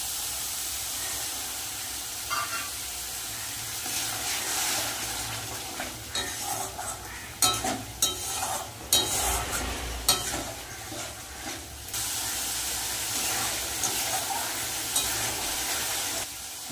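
Water from rinsing the spice bowl is poured into a masala for a spicy red fish curry in a pan, making a steady hiss and sizzle, with a burst of irregular scraping and clattering strokes in the middle.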